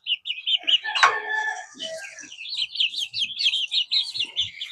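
A young rooster chick gives a high, scratchy, uneven crow, close and clear, among chirps and cheeps from a group of chicks, with no talking.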